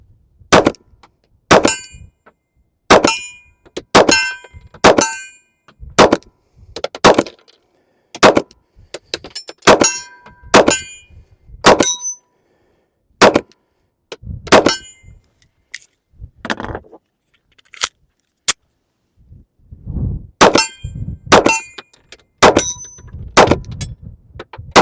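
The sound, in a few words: S&W Bodyguard 2.0 pistol firing ball rounds at steel targets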